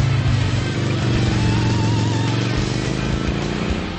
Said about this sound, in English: a single pin crankshaft helps produce the distinctive guttural classic V-twin sound